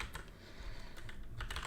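Fingers typing on a computer keyboard, a quiet, quick run of clicking keystrokes coming in irregular bursts close to the microphone.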